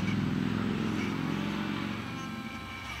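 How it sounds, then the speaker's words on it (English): Loud motorcycle engine droning past, a rough low rumble that stays strong then eases slightly as it moves off. "Got a loud motorcycle there."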